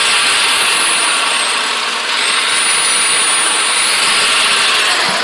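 An adjustable-speed buffer polisher, used on a 1923 T Bucket, runs with a loud, steady high-pitched whirring hum, its pitch rising and shifting slightly as the speed changes, close up and without talk.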